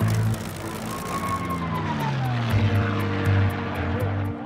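Racing propeller aircraft at the Reno National Championship Air Races on a desert airfield drone past loudly, the engine pitch sliding downward as a plane passes near, with a continuous rumbling roar throughout.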